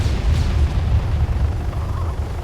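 An explosion in the Arma 3 video game rolls out as a deep, low boom, with rumbling that lingers at moderate loudness for a couple of seconds.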